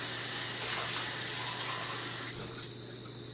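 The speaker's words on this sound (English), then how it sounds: "So just add a little bit more water." Water pours steadily from a tap into a cooking pan holding chicken wing drippings, close by, over a low electrical hum, tapering slightly near the end.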